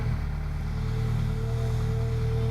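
Diesel engine of a Liebherr 934 long reach excavator revving up from idle, a steady loud low rumble with sustained tonal hum, close and continuous with no talk.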